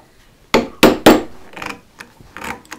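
A woodcarver taps a carving tool handle with a mallet to knock waste out of a hole being shaped for the new handle: three loud, close wooden knocks in quick succession, followed by several lighter taps and rubbing sounds.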